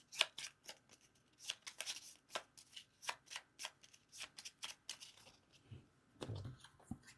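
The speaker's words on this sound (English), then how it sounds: "shuffle them and do a new face down deck" A face-down deck of board game cards being shuffled at close range, with a steady run of quick riffling bursts and a few soft thumps near the end.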